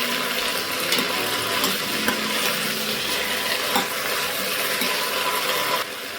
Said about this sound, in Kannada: ಇದನ್ನು ಈಗ ಎಣ್ಣೆಯಲ್ಲಿ ಸ್ವಲ್ಪ ಫ್ರೈ ಮಾಡ್ಕೊಳ್ಳೋಣ